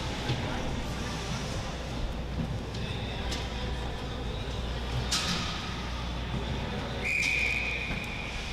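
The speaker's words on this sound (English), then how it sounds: "that is another early whistle blown there by the referee" A referee's whistle blows at a varsity high school lacrosse game, one short shrill note near the end over steady crowd and field noise, with commentary running throughout.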